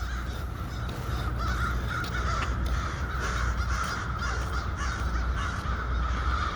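Crows gathered around a building caw repeatedly in harsh overlapping calls, steady and fairly close, over a constant background rumble with no talk.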